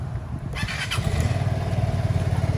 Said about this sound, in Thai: เครื่องยนต์นิ่งมาก สวย ๆ เลยครับคันนี้